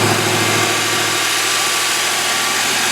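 A 1981 Ford Fairmont wagon with a carbureted 5.0 V8 idles close by, a loud, steady, throaty rumble with an even low pulse and no talk over it.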